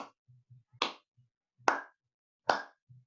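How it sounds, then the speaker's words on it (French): Applause for a speaker at a business talk comes across as just a few sharp, separate hand claps, spaced nearly a second apart, fairly close. Soft low murmurs sit between them. "Mon ami, ovation pour toi."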